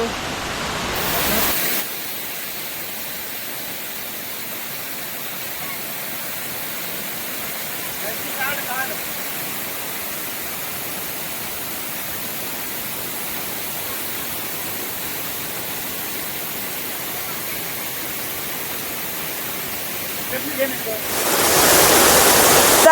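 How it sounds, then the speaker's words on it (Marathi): A waterfall roars as a constant broadband rush that fills the whole stretch, with brief louder noise at the start and end. "खरंच खूप सुंदर वॉटरफॉल आहे हा तर"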